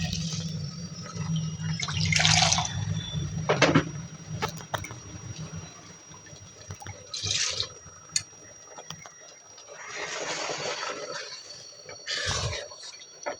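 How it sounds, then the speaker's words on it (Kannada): Water poured into ground masala paste for a mutton green kadan curry, in several short splashing pours spread out over the stretch, close and fairly soft, with quiet gaps between. "ಈಗ ಇದಕ್ಕೆ ಸ್ವಲ್ಪ ನೀರನ್ನು ಆ್ಯಡ್ ಮಾಡ್ತಾಯಿದ್ದೀನಿ"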